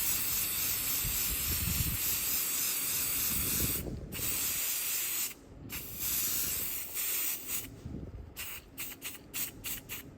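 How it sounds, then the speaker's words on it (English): An aerosol can hisses in long, steady bursts, then in a series of short, quick sprays toward the end, close by and with no talking. "Okay, there it's spray painted."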